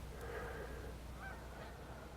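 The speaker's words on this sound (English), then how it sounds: "there's some geese over there, and it's just kind of creepy when geese just start stirring" Geese honk a few times in the distance over a low steady rumble of background noise.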